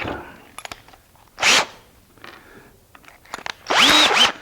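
A power drill bores holes in wood during a woodworking build, with two short, loud, close bursts of whirring separated by quieter handling clatter and small knocks.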